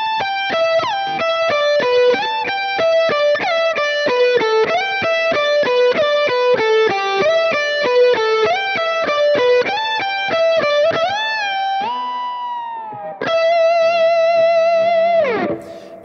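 Distorted electric guitar runs through a fast pentatonic lick, a rapid stream of picked notes ending in sustained wide bends, loud, close and unaccompanied.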